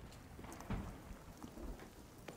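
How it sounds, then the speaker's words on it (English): A thunderstorm in the video game The Cycle: Frontier, heard as a low, soft wash of rain with faint distant thunder rumbles, no voices over it. "The storm is right next to me."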